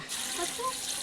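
Water is poured into a pot of cleaned tapioca pieces set to boil with salt and turmeric, a brief, close, soft gush lasting about a second.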